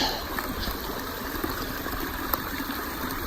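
Waterfall beside a rocky outdoor climb, giving a steady broadband rush of falling water that sounds close and constant, with a few faint knocks.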